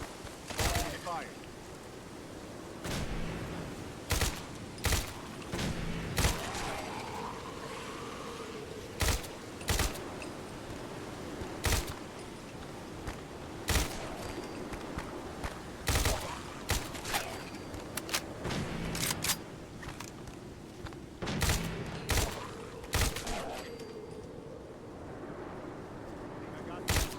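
Gunfire in the video game Fallout 4, with repeated sharp shots in irregular bursts and single cracks over a steady ambient bed, spread across the whole stretch.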